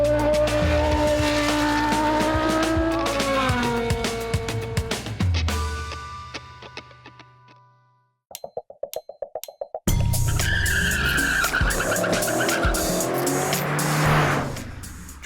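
Formula One race car driven hard by a professional driver, loud high-pitched engine notes rising and falling through gear changes with tire squeal, then a sudden quiet gap of short bursts before the roaring engine returns.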